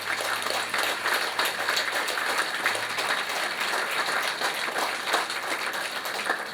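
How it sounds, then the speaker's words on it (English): An audience at a community library grand opening applauds steadily, a dense, even wash of clapping from many hands heard at moderate distance throughout, without talk over it. "Please, everybody, big round of applause"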